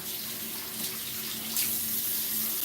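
Cold water running steadily from a bathroom tap into a sink before shaving, a continuous close hiss and splash with no speech.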